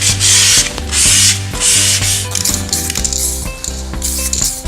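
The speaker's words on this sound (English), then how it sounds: "You need to use just a little 800 on a soft pad." Sanding a textured plastic car bumper corner with 800-grit paper on a soft pad: steady rubbing strokes in repeated bursts, close and fairly loud, with musical tones running underneath.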